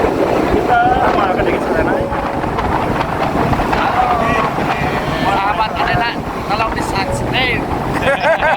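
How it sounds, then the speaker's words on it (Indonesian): Steady wind buffeting and road rumble while riding in the back of a pickup transport vehicle on a smooth road toward Mount Rinjani, loud and continuous throughout, with faint voices now and then. "Kami melaju dengan kendaraan pengangkut melalui jalan yang mulus"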